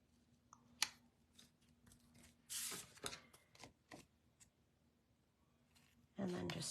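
Scissors trim the excess from a strip of 6x6 pattern paper, several short crisp snips and paper rustles scattered across the clip, close and fairly quiet, with a louder crinkling paper sound at the end.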